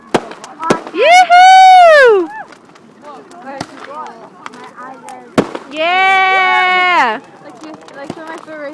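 Fireworks pop and crackle at an outdoor all-night show near a fire in Fort Yukon, mixed under loud whooping, shouting and excited talk from people close by.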